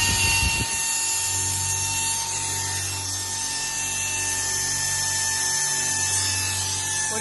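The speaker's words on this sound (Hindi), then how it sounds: "ये टेंशनर है जो पट्टी टाइट करेगा।" A pneumatic steel strapping tensioner tightens a strap while running off a 5 hp two-stage heavy-duty air compressor, giving a sustained high mechanical whir with a lower motor drone that pulses in and out, close and loud, with no talking.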